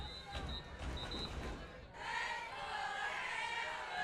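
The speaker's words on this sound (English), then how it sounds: "Crowd still alive here." Crowd at a Thursday night high school varsity football game between Savanna and Rancho, a steady broad roar of voices with a louder, brighter swell of cheering in the second half, heard at a distance.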